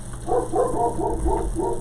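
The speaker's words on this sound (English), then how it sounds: "as soon as I start to light, the dog starts to bark" A dog barks outdoors in a run of about five quick, fairly loud barks over low background hum.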